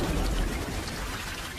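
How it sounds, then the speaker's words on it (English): Heavy monsoon rain pours down steadily, a dense loud hiss of drops hitting surfaces, with a faint low rumble underneath and no voices. "With the downpour comes upheaval."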